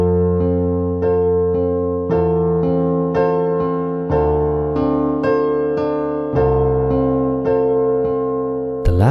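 Piano played with both hands together in the pre-chorus of a 70s song: steady rhythmic chords struck about twice a second with a bass line underneath, close and full for nine seconds.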